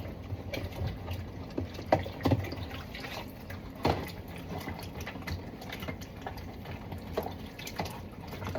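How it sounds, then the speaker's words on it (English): Water running while a small suction tube piece is rinsed clean, a low continuous splashing flow with a faint mechanical hum beneath and occasional louder splashes and knocks, close by. "Make sure my suction tube piece is all the way clean. I'm gonna rinse it real good."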